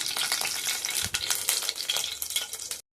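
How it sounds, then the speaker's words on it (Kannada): Organic peanut oil hits an already hot pan over a low flame as upma cooking begins, giving a steady, close sizzling hiss that runs unbroken for nearly three seconds before cutting off, with no voices. "ಫಸ್ಟ್ ಎಣ್ಣೆ ಹಾಕೋಣ. ಆಲ್ರೆಡಿ ಪಾತ್ರೆ ಬಿಸಿ ಇರೋದ್ರಿಂದ ಲೋ ಫ್ಲೇಮಲ್ಲಿ ಇಡೋಣ."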